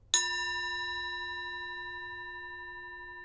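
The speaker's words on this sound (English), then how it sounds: "I'm going to ring the gong." A gong struck once, sounding a clear ringing tone that sustains steadily and decays slowly over a few seconds, quiet and alone with no voices.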